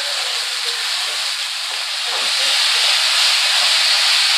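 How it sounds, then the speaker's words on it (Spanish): Homemade Mexican chorizo browns in a pan with a loud, continuous hissing sizzle that swells a little toward the end, and no voices over it. "aquí ya se está dorando nuestro chorizo"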